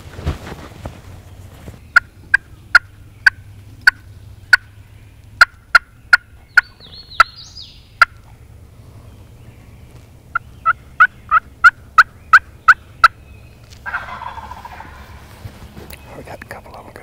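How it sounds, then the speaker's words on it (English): A wild turkey gobbles again and again outdoors in late season, sharp rattling bursts in quick runs at moderate distance, with faint soft calling and quiet background between them. "this bird just gobbled out in front of us"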